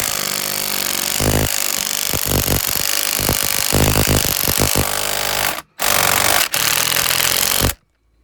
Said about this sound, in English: impact driver, see if we can jolt the thing out rather than busting it in its socket